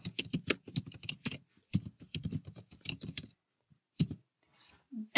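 Someone types on a computer keyboard, entering an email address in quick bursts of crisp close key clicks separated by short pauses.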